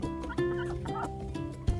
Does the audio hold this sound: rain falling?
no